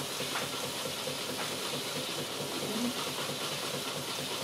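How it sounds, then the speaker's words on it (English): A PM Research #1 model steam engine runs on a small boiler with a burner, giving a steady broadband hiss of escaping steam with faint rhythmic chuffing underneath, continuous and close. "This is a lot of motor for this boiler. I can keep it running for a while if I don't go too fast."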